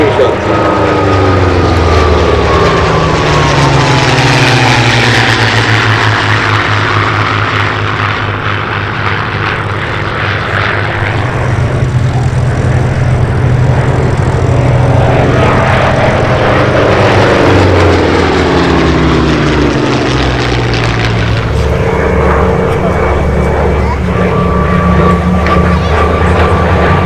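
A P-47 fighter's propeller engine roars loud and steady during an air show at Sywell in 2024, its pitch sweeping and shifting as it flies past, with the heavy drone continuing throughout.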